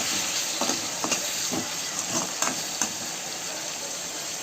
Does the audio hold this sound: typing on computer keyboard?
no